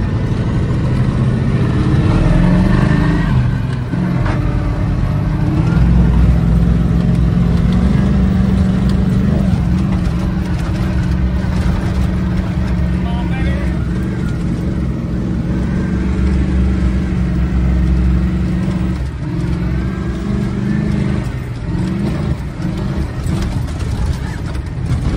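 An army 5-ton truck engine, run with no coolant at the dunes, runs loud and steady at close range, its low rumble swelling with repeated revs throughout.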